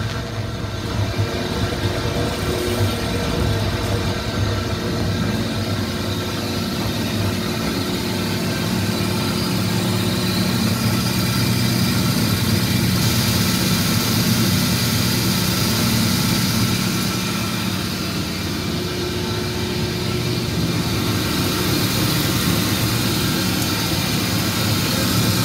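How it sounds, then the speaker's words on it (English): Reconditioned Hollymatic 180-A mixer grinder running in mix mode with its mixer shaft spinning, a continuous loud motor drone with low hum and steady mechanical whine, close and unbroken throughout. "right now, this machine is in mix mode. You'll see the mixer shaft here spinning"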